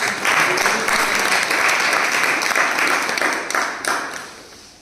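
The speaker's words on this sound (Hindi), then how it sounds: "चलिए सर के लिए एक बार ताली बजा दें।" An audience at a company gathering in Ranchi, Jharkhand claps for the chief guest, a full, sustained round of applause that thins and fades near the end.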